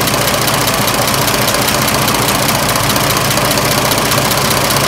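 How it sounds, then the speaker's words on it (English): An old car engine, about 75 years old and just revived, idles warm up close: a steady, loud, even mechanical clatter with faint ticking that carries on without a break or any voices. "This engine is so much quieter when it's warm."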